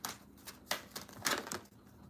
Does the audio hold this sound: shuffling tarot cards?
yes